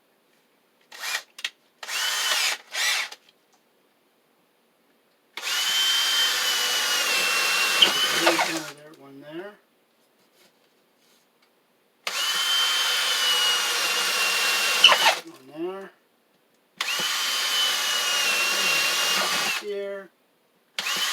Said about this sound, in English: we can take our smaller bit here and we'll drill out the corners